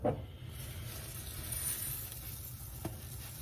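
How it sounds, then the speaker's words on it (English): Rice toasting in a generous amount of hot oil in a home kitchen pan gives a steady, soft sizzle and crackle with faint stirring, an abrupt clack at the start and another near the end. "Fry my rice."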